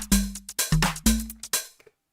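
An Elektron Digitakt II synthesizer plays its default pattern: a few punchy drum hits with short low pitched tones, roughly five beats in quick rhythm that stop abruptly, close and clean without voices.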